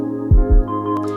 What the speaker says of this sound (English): put some reverb on kick